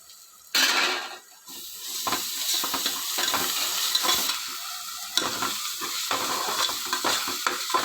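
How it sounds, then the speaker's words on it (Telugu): Ginger paste is stirred into a sizzling mutton gravy, with a steady frying hiss beneath close, repeated scraping strokes of a spoon around the pan, and no voices. "ఒకసారి కలుపుదాం మొత్తం అల్లం పేస్ట్"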